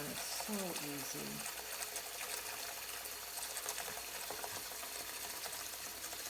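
Cold water runs and splashes steadily into a canner being filled for green beans, close by and continuous, with a voice briefly heard at the start.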